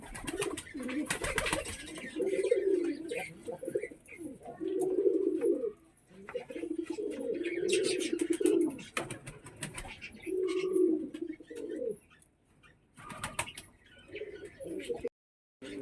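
Pet pigeons kept at home, with their young, cooing in repeated low rolling phrases, close and moderately loud, with a few brief rustles and wing flutters in between and no talking.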